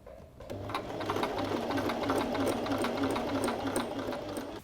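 A Singer sewing machine runs steadily, stitching a dart on a skirt, with a fast, even whirring hum and needle chatter that starts abruptly and holds at a constant close, loud level.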